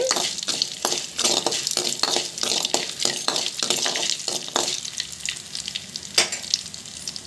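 Flat beans fry in a pan with a continuous loud sizzle, broken by repeated rhythmic scrapes and clinks of a spatula stirring against the metal.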